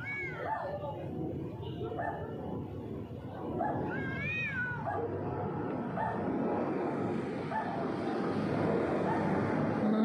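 A caged dog barks while stray cats meow and yowl nearby, with repeated rising cries and yips clustered early, over steady background noise that grows slightly louder later.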